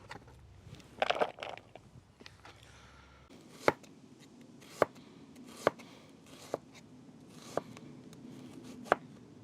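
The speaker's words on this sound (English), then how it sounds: "just slice them nice and fine, just chop them nice and fine" Onion being finely chopped with a knife on a board, a rapid flurry of cuts followed by single sharp, evenly spaced knocks about once a second, close and clear with no talking.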